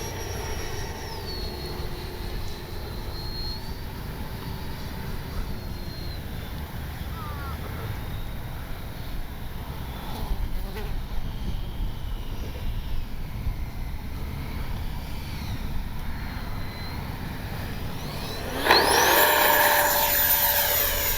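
A Freewing 64mm JL-10/L-15 twin-jet RC model flies past with a steady, continuous whine that swells briefly and rises louder toward the end.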